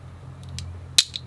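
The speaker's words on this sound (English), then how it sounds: "So I think I'll use the blade and cut it away." A small blade slices away a bonsai branch: a few faint scraping ticks, then one sharp crisp snip followed by a softer second click, close and quiet against a low background hum.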